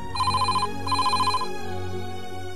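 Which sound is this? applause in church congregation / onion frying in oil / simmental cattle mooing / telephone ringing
telephone ringing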